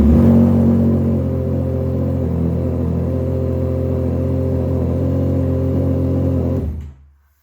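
A 2024 Yamaha MT-09 fitted with an SC Project CRT carbon full exhaust, heard from the rider's seat, holds a loud, deep, steady engine drone with a slight pitch shift before cutting off abruptly near the end.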